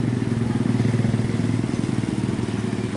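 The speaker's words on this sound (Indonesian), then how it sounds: "kita akan mengetes motor ini" A Honda Vario motorcycle being test ridden, its engine droning steadily at a constant pace with a gritty, rattling buzz that stays loud and close throughout.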